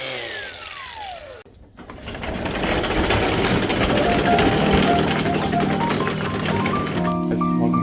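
Long bolts being cut down to size with a 10-inch power tool: a brief whine winds down, then after a short pause a loud, steady mechanical grinding runs on to the end.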